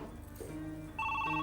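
A telephone rings in a scene from a Hindi TV serial. Electronic ring tones start partway through over a low background hum, loud and close, with no talk.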